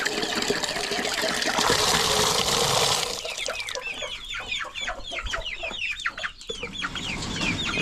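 Chickens on a farm in hot weather, with a loud rush of running water filling the first few seconds, then many overlapping clucks and chirps from a flock nearby.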